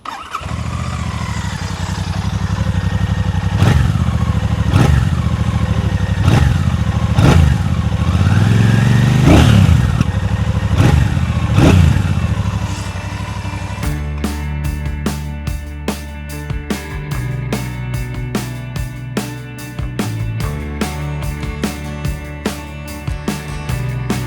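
A Royal Enfield Bullet 650 motorcycle engine starts and revs repeatedly, loud and close, then settles into a steady thumping idle with a rhythmic mechanical clatter.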